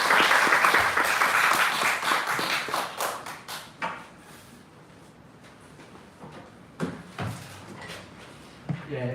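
A church congregation at an autumn revival service welcomes a visiting pastor with hearty applause that fades after about four seconds, followed by a quieter room with scattered thumps, taps and footsteps as he comes forward.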